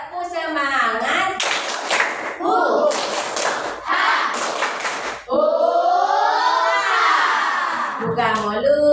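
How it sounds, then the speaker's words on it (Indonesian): A group of children performs a rhythmic 'tepuk semangat' spirit clap in a classroom, chanting loudly in unison between bursts of patterned hand claps and thumps. "Tepuk semangat."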